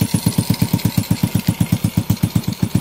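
A Honda Wave 125 motorcycle engine, just back from a top overhaul with a new cylinder head, idles close by with an even, rapid putt-putt beat that never wavers.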